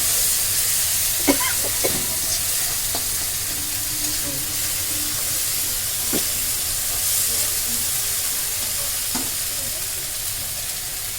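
Spices and pointed gourd stirred and fried in a pan, a continuous loud sizzle and hiss with occasional spoon scrapes and clinks, close and without talk.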